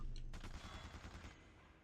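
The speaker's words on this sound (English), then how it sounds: "All right, we're gonna hit him with a flashbang." A flashbang grenade goes off in a video game: a sharp, loud burst that blooms into a dense, rumbling blast with crackling debris, then settles into a sustained roar over nearly two seconds, with no voices.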